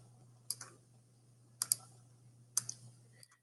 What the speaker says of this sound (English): I'm going to actually use my keyboard controls of Control-V.